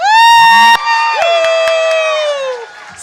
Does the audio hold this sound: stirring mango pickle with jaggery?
no